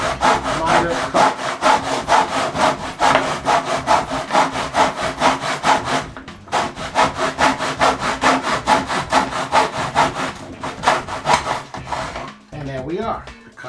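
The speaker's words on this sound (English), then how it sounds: "just do a nice, smooth, miter cut" A hand saw making a miter cut through wood for a canvas painting frame, with rapid steady back-and-forth rasping strokes, close and loud, a brief pause midway, then the strokes resume and slow near the end.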